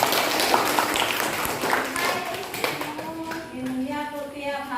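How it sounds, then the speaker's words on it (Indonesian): Students in a junior high classroom applaud, a burst of clapping with scattered taps that tapers off as children's voices talk over it. "Iya, tepuk tangan."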